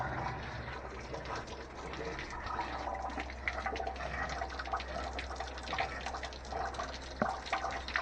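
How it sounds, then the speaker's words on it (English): Water flushes through the cooling system of a Land Rover 300TDI engine, a continuous close gurgling and splashing rush over a low steady hum, with occasional drips and small knocks. "And that'll flush everything out. Motor and radiator."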